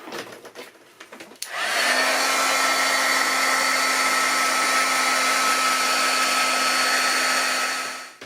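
After a few quiet handling sounds, a craft heat tool switches on over a stamped crafting project and blows with a loud, steady hum and whoosh for about six seconds before cutting off.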